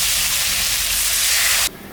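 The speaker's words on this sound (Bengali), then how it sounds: "এখন আমি জল দিয়ে দিই" Water poured onto fried spice paste in a hot pan for a fish curry sends up a loud, rushing hiss of steam that stops abruptly, leaving a quieter simmer.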